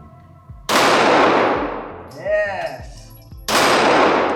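Sharp, loud Glock 47 pistol shots, one near the start and another near the end, each ringing out with a metallic echo, with a brief spoken word in between.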